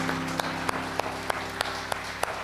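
A church congregation at a Sunday service claps in a slow, steady rhythm, about eight sharp in-time claps over a low hum of the room.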